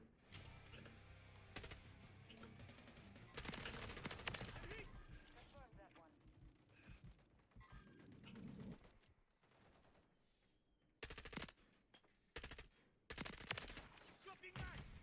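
Bursts of M16 rifle fire from a PC shooter game crackle in short volleys and longer sustained strings, interleaved with quieter gaps and in-game chatter.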